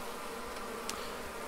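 A honey bee swarm hums around a five-frame deep nucleus box, a dense, continuous buzz close by with no voices over it.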